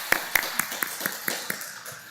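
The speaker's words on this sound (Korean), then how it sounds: "박수로 환영해 주시면 고맙겠습니다." A church congregation applauds during a Sunday service, about eight claps spaced evenly, fairly faint and heard alone.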